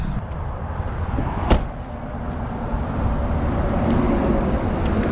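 A 2016 Chevrolet Silverado LT with about 110,000 miles idles with an engine misfire, giving a steady low rumble with a single sharp knock partway through, heard at close range with no talk.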